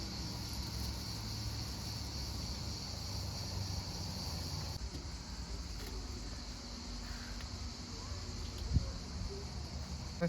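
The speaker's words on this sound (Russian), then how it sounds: "Цикады" Cicadas shrill continuously on an early morning in the mountains near Shepsi, Russia, a steady, faint high-pitched drone with a soft background hum and no one talking.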